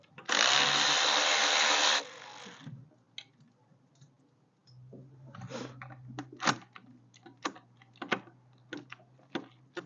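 A power wrench working on the manifold bolts of an MG BGT engine during a supercharger fit gives one loud two-second burst, then a low hum under a series of sharp metallic clicks and taps.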